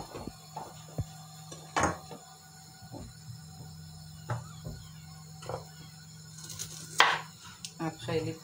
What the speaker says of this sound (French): En attendant, je continue à couper mes légumes.